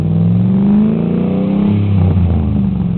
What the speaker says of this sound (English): V8 gas motor. We're going to go ahead and give you a sound clip. Go ahead and start it.